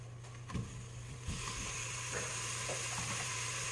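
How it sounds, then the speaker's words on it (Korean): Steady sizzling hiss of beef brisket frying in a hot pot for doenjang-jjigae, with a few soft clinks and scrapes early on, continuous and fairly close. "어느 정도 냄비가 뜨거워졌으면 차돌박이를 넣어줍니다"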